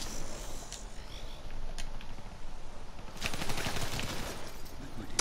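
Faint, distant automatic gunfire rattles in a shooter video game's Search and Destroy match, growing busier toward the end.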